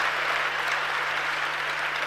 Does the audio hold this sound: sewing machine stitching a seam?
no